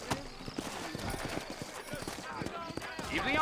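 Horse hooves clip-clop in a steady walking rhythm in the Red Dead Redemption video game, moderately quiet beneath a voice.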